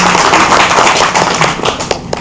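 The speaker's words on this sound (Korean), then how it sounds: "다시 한번 감사의 박수를" Audience applause at a Korean book publication celebration, many hands clapping in a dense, steady burst that stays loud throughout before thinning slightly at the end.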